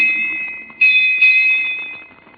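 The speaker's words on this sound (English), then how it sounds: "Here come the bells." Clear ringing bell strikes in a 1948 radio drama, a sustained tone with two fresh strikes close together, loud and alone.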